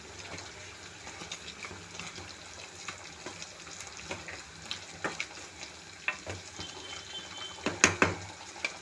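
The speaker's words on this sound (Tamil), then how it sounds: "நல்லா கொதிக்கட்டும்" A pot of curry bubbles and sizzles softly, with scattered crackles and pops that grow sharper toward the end.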